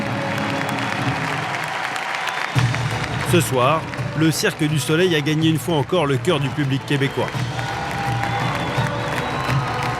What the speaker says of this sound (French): c'est un tonnerre d'applaudissements et une ovation pour les artistes